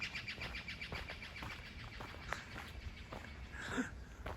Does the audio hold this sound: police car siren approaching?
no